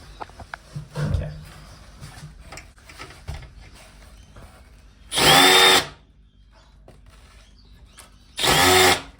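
A power screwdriver removes screws from a Samsung TV circuit board, giving two short, loud whirring bursts a few seconds apart against a quiet room with faint handling noises.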